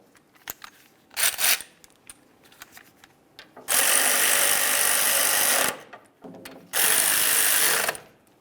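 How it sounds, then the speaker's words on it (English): Ratchet spinning the caliper slider bolts in on the rear driver-side brake caliper of a 2002-2005 Ford Explorer: a few short clicks, then two long, loud, steady bursts of rapid ratcheting, close up and with no talk. "let's take our two caliper slider bolts. We'll get those into position. Now you want to start them both in. Bottom them out."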